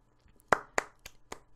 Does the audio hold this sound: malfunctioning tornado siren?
no